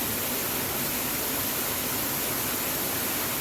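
Water rushing down a rocky stream in the Aravalli hills, a dense, steady, loud roar of flowing water with no pauses, heard close up and alone.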